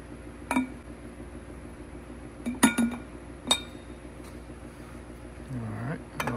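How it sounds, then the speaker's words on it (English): Fuel filter from a Mercury Verado V8 outboard being emptied into a glass jar: a few sharp glass clinks and knocks spaced over several seconds, with low handling noise between them. "just dump this fuel filter out into something, glass jar"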